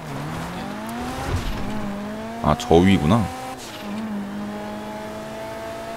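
A car drives in the GTA Online video game with a steady engine drone, and a short burst of tire squeal comes about halfway through. Someone talks over it.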